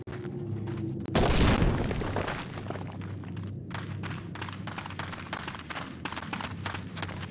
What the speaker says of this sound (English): Oh, we're gonna explode it.